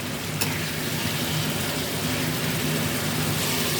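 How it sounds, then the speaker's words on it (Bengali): Potatoes frying in oil in a pan while chhana kofta is cooked, making a steady, close hiss of sizzling with a faint low hum underneath and no talking. "এবার আমি আলুগুলো দিয়ে দেবো। আলুটা আবার 2 মিনিট আমি কষিয়ে নেব।"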